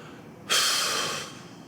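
A single breath, audible as a soft, airy rush lasting under a second against a quiet room background.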